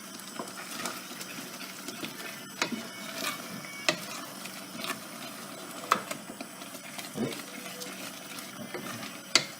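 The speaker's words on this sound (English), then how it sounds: "The important thing with risotto, as I said before, is keeping stirring." A spoon stirs mushroom risotto in a pan with a soft, continuous scraping and gentle sizzle, broken by several sharper clinks of utensil against the pan.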